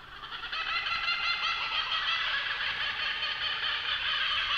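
A kookaburra sample processed with reverb and ping-pong delay gives a dense, smeared wash of cackling calls, building from the start and holding loud and continuous throughout with no speech.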